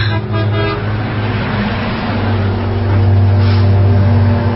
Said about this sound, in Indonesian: sebuah mobil memberi lampu tembak sambil membunyikan klakson